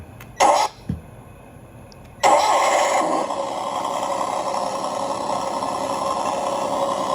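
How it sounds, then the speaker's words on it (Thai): A toy Komatsu PC180LC excavator's motorized engine hum starts up after a couple of brief knocks and clicks, then runs steadily and fairly loud with a buzzing, rattly texture. "พอเสียบปุ๊บก็จะมีเสียงขึ้นมาเลยนะครับเป็นเสียงเครื่อง เหมือนรถจริง"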